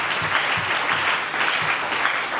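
Congregation applauding and cheering at a church service acclaiming the Lord, a dense, steady wash of clapping from many hands that fills the room without pause.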